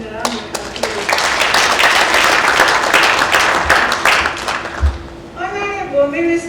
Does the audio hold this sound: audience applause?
yes